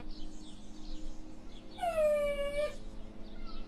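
A dog on a leash whimpers with a single drawn-out, high whining cry in the middle, over steady background noise and low rumble.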